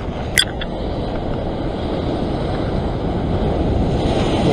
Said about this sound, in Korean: 아, 파도.